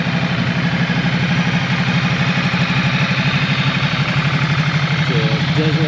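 A Ducati Multistrada 1200 S Grandturismo's 1,198 cc L-twin engine idles close by with a loud, steady, lumpy throb that carries evenly throughout, with no voices over it.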